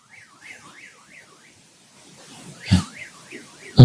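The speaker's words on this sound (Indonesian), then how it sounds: "Ini alarm siapa ya? Oh, alarm jam saya." A wristwatch alarm sounds in a rising and falling electronic warble, stops, then warbles again, with a couple of louder knocks and bumps near the end.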